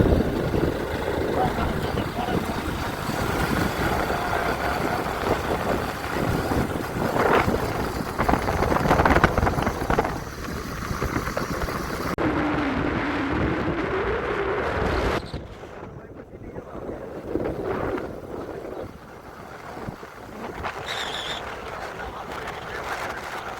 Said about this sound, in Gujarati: અમારી કરતો તો બાઇકનો ને પવનનો અવાજ